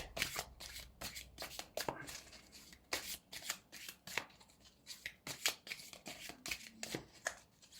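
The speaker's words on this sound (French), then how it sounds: "on va sortir une carte des météores. Alors, une carte, s'il vous plaît" Oracle cards being shuffled and drawn, a steady run of crisp, close riffling and flicking snaps with short pauses between bursts, alone without talk.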